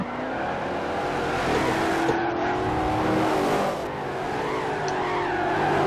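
Sedan race cars, including a 1968 Shelby, brake hard and power through a tight first turn with tires squealing, engines roaring loud and close throughout.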